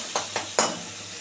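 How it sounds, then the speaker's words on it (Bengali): Turmeric and spices fry in a pan for fish kofta, with three short, quick stirring scrapes over a faint, steady sizzle. "দিয়ে এটা একটু ভাজা ভাজা হোক"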